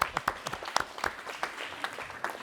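An audience applauds a female director at a master class, a steady spread of many hands clapping with scattered louder claps, near and moderately loud throughout.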